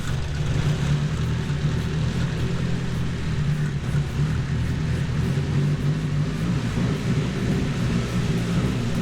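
A turbocharged Datsun 510 with a KA24DET engine runs with a loud, steady, deep roar close by, sustained throughout with no clear rise or fall and no talk.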